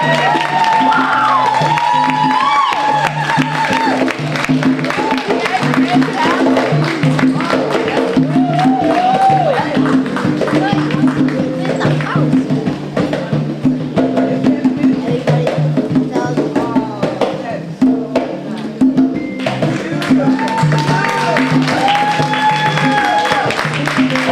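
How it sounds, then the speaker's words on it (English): Audience at a Kwanzaa community celebration applauds award winners called up for a photo, sustained clapping and some cheering from a crowd, with voices talking and murmuring over it throughout. "One more round of applause here."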